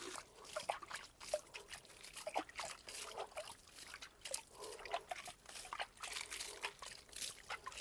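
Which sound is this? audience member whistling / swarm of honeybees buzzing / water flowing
water flowing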